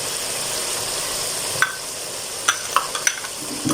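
Chickpeas frying in a pan for a chicken and green chana dish, a low continuous sizzle with a few sharp clicks of a spoon stirring against the pan, close up with no talking.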